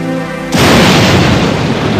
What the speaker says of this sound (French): 16 juillet 1945, 5h29 du matin, Trinity explose.